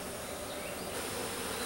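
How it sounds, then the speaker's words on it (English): Honey bees buzz steadily around a fairly new hive of comb being removed from a camp house, a dense, continuous, close swarm drone with no talk. "Look at that one trying to sting me right there."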